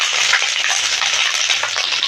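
Dried chili and curry leaves hit hot oil as tempering for a cucumber and dried fish pickle, giving a loud, steady, hissing sizzle at close range with no speech.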